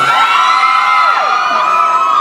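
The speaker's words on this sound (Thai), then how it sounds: "ขอบคุณสำหรับเสียงปรบมือแล้วก็เสียงเรีงนะครับ" An audience at a live event cheers and whoops loudly in a dense, continuous roar of high voices, close and sustained, with no distinct talk on top.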